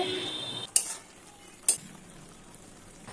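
Cooked pineapple stirred in a pan, two sharp utensil scrapes against the pan separated by a pause, over a quiet kitchen background with no talking.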